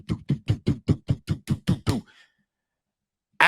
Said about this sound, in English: she heard a knock at the door